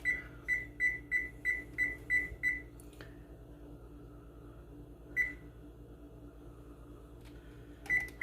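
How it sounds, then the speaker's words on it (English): A kitchen oven timer beeps while being set: a rapid run of seven evenly spaced electronic beeps, then a pause and two isolated single beeps, all close and clear over a quiet background hum. "So let me set the timer. I don't know if there's a timer on the oven."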